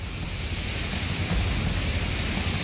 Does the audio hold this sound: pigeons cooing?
no